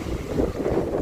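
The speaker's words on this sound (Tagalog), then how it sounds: "Lakas talaga ng hangin" Strong wind buffets the microphone outdoors near a market, a loud, gusty low rumble that surges and dips continuously with no voices.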